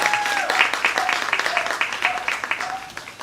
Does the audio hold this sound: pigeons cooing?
no